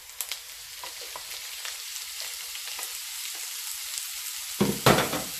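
Minced meat and softened onions fry in a pan for lasagne bolognese, a soft steady sizzle with faint scrapes of stirring and a louder clatter near the end.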